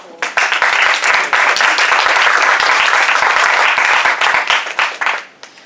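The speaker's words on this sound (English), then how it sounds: "if you can please give them a round of applause" Audience at a meeting gives a round of applause for the role players, a dense burst of clapping lasting several seconds that fades out at the end.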